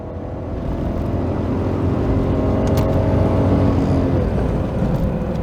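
An MK3 Toyota Supra's turbocharged engine pulls hard under acceleration, a loud sustained rising drone with whine heard from inside the car, continuous for several seconds with no talking.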